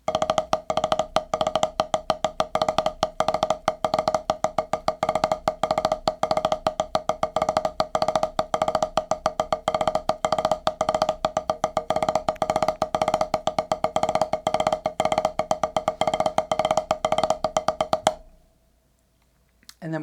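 A fast drum pattern mixing sixteenth and thirty-second notes, played as a steady stream of closely spaced sharp strokes for about eighteen seconds before stopping abruptly; near and loud, with no talking.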